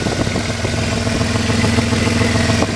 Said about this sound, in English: It's got a super loud exhaust leak.